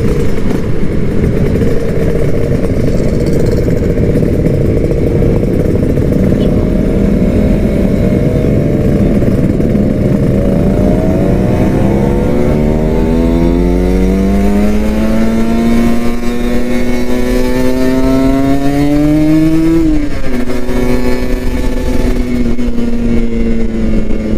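A Kawasaki Ninja RR motorcycle engine under a rider, loud and close, holding a steady drone before revving up through rising pitch sweeps with a sharp shift partway, then climbing again.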